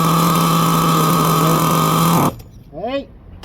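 A nitro engine on an HPI Savage X 4.6 RC truck runs loud and steady at a high-pitched buzz, then cuts off abruptly, leaving a short, brief voice-like sound afterward.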